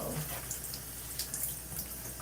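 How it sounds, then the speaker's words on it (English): Water running or spraying onto hair during a wash-and-go styling with a water-based curl product, a steady soft hiss with faint dripping throughout, close and fairly quiet. "So now I'm adding water"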